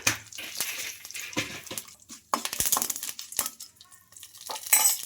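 Mustard seeds, cumin, curry leaves and dried red chillies crackle and sizzle in hot tempering oil, with irregular pops and stirring scrapes up close and no talk.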